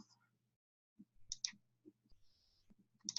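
A few faint computer mouse clicks come while a forum's create-thread button is selected, with short quiet taps close by, separated by silence and soft voice sounds.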